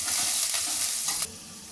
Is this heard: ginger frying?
yes